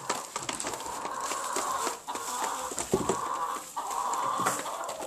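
Farm chickens cluck and squawk in a busy flock, the close, overlapping calls running continuously with brief dips in loudness.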